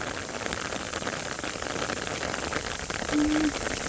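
Steady rain falls over flooded rice paddies during planting, a dense even hiss of drops on water and surface, with a brief louder patch near the end.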